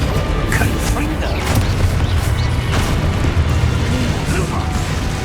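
A Confringo fire spell explodes amid a magical duel in Hogwarts Legacy, giving loud, continuous booming and crackling blasts with a steady rumble, and voices faintly mixed in.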